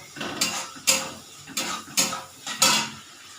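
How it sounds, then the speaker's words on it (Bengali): A spoon scrapes around a pan as yogurt is stirred into a prawn curry, giving about six rhythmic, fairly close strokes with short pauses between them. "টক দইটা দিয়ে ভালো করে নাড়তে নাড়তে নাড়তে নাড়তে দেখো তেল ছাড়া ছাড়া হয়ে আসছে"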